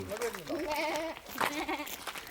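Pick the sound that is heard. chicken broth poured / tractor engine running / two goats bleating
two goats bleating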